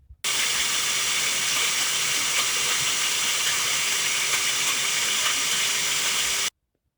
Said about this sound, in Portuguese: agora eu vou estar processando esse pinhão. Eu vou passar no processador